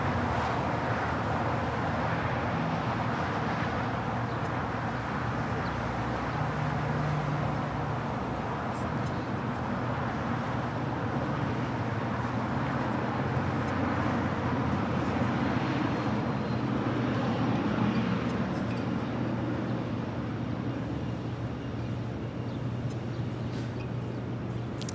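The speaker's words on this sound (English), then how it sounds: "This is Air New Zealand, the 777-300ER, Flight 6, coming in from Auckland," An Air New Zealand Boeing 777-300ER on Flight 6 from Auckland lands on runway 25 left at Los Angeles International Airport, its engines a steady, broad roar held for the whole stretch, loud and unbroken.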